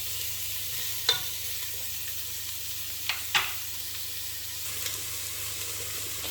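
Vegetables for a vegetarian chilli frying in a pan, a steady soft sizzle throughout with a few brief stirring clinks and scrapes.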